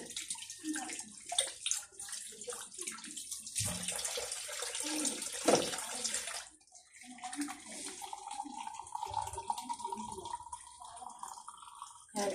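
Water being poured to rinse a soaped kitchen sink, a continuous splashing and gurgling wash of running water at close range with faint voices in the background.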